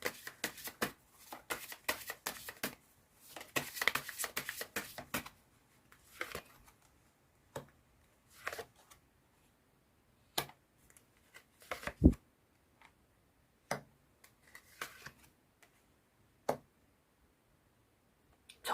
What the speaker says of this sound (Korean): 마지막으로 조언점 카드 뽑아보도록 할게요